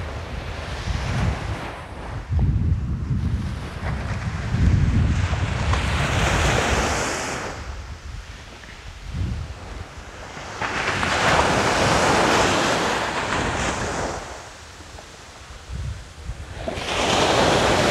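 Sea waves at Praia da Comporta roll in and break on the beach in long surging swells, loud and close, with heavy wind buffeting the microphone between crashes.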